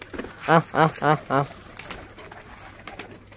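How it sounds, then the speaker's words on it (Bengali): Lotan pigeons cooing close by, four rounded coos in a quick even rhythm, then quieter rustling and faint background noise. "এই যে আমার সবগুলো লোটন এখানে চলে আসে।"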